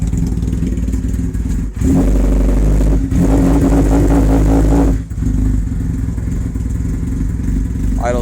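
A 1985 Honda Nighthawk CB700SC motorcycle engine idles close by, a loud steady rumble that briefly rises and clatters in the middle, with two short dips in level.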